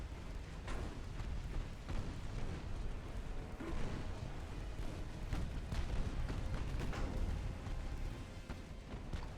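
Naval gunfire in the warship game Ultimate Admiral Dreadnoughts, a 1920s German campaign with 6-inch, 5-inch and 2-inch guns, as a steady low rumble of distant overlapping booms and bursts without speech.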